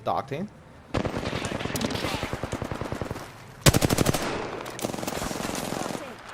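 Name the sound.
gunfire in Apex Legends video game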